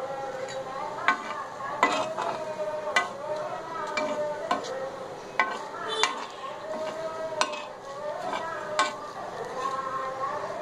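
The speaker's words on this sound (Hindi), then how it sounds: "ये सारे मसाले अब भुनना शुरू हो चुके हैं। इसे हम हल्के हल्के चलाते रहेंगे जब तक कि मिर्च थोड़ा सुनहरापन ना ले लें।" Sambhar masala spices dry-roasting in a pan over very low heat, with a spoon stirring steadily and scraping, clinking against the metal in repeated light taps under a faint continuous sizzle.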